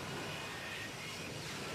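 An F-35B stealth fighter jet engine roars as the aircraft flies, a steady broadband rushing drone heard alone and fairly distant.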